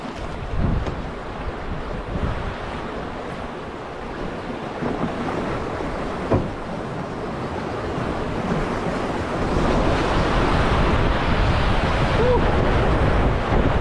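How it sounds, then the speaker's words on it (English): Violent white-water rapids and big waves crash around a small boat, a loud continuous roar with wind buffeting the microphone, growing heavier in the final seconds. "So this one, it's pretty violent with all the white water"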